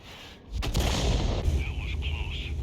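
Conqueror Gun Carriage tank gun in World of Tanks fires one loud, close blast that rolls into a sustained rumble, with a voice talking underneath.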